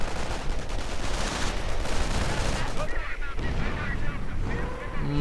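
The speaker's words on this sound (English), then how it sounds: "Mines going off right there." Mines exploding during a real-time strategy video game battle: dense, continuous blasts and gunfire rumble throughout, with some quieter, tonal game sounds near the end.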